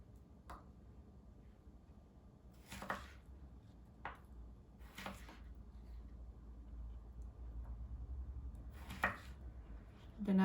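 A knife chops through the last piece of cucumber on a cutting board, producing a handful of sparse, faint chops spaced irregularly over a quiet background.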